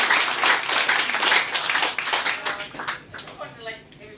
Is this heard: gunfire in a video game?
no